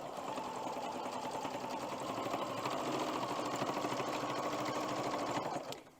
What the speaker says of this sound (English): start sewing at 1/4 of an inch seam allowance